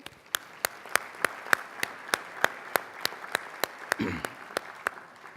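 An audience at The Research Bureau's annual meeting claps for its board members, heard as a sparse run of crisp, evenly spaced claps at a steady rhythm, fairly close, with a brief murmur of voices near the end.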